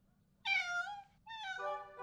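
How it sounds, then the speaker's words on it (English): A cat meows twice from up on a high shelf, two clear, drawn-out, fairly close calls with a short pause between, with no other sounds. "The cat is stuck on the high shelf."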